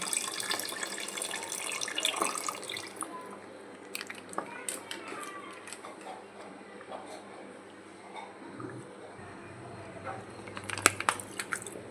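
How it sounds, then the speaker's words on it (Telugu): Milk is poured into a pot while making paramannam, a soft liquid splashing and trickling close by, with light clinks and scrapes of utensils and a person talking over it. "ఇందులో కొంచెం పాలు వేస్తాను."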